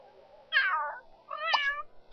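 Two plaintive meows from a cat in The Sims 3, the first drawn out and falling, the second after a short pause and rising then falling, close and clear against a quiet background.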